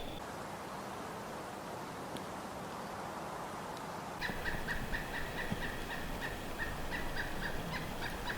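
A bird calls on a mountain hike after a snowstorm. Quiet outdoor background comes first, then a rapid series of repeated gobbling, clucking notes starts midway and continues to the end at moderate distance.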